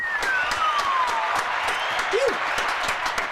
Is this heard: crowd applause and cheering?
yes